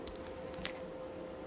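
Scissors snipping through tape on a giant taped Chocobi snack storage box, a single quick, close, crisp cut standing out against a quiet room background.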